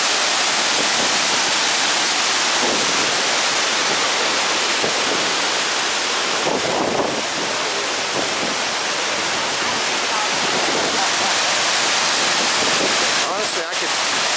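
Steady, loud roar of Baring Falls in Glacier National Park, Montana, with gusts of wind off the falls buffeting the microphone throughout.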